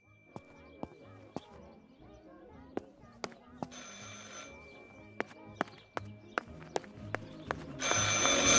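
An old-fashioned telephone bell rings repeatedly inside the horror video game Martha is Dead, sharp metallic rings at irregular intervals amid quiet ambience, ending in a burst of louder noise.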